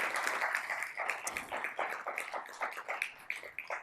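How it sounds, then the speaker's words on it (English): Audience applause for the speakers at the close of the MICHauto Summit 2022, a moderate, steady patter of many hands clapping, fairly close and without talk. "one more round of applause for everybody that spoke today and shared their thoughts"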